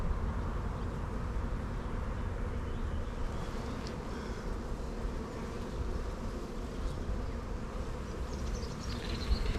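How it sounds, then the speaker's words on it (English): Dense, steady buzzing of many bees from an opened beehive full of young bees and drone cells, a continuous close drone with no talk over it. "I do see a lot of young bees."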